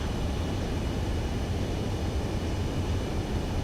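A jet aircraft on landing approach in the Ace Combat 7 video game, a steady, loud, broadband engine roar held at an even level throughout with no voices.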